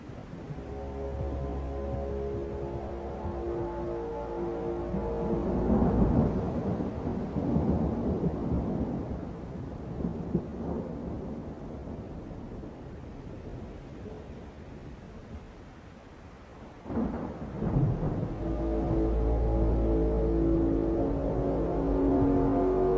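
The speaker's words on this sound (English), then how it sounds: "someone was recording a stormy night in Dubai" Thunderstorm on a stormy night in Dubai, with deep rolling rumbles of thunder and steady rain-like noise building to a loud peak midway, then easing before another burst of storm noise near the end; low droning tones sit underneath.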